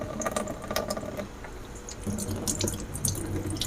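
Water draining from a Skywing 5-stage alkaline water purifier after a filter replacement, a close, continuous splashing and trickling flow with gurgles, steady and unaccompanied.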